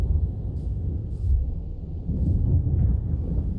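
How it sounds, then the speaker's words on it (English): Thunder from a storm in Minecraft with a tornado mod rolls as low, deep rumbles that swell and fade in a few waves, fairly loud and close, with no talking. "do y'all hear this lightning?"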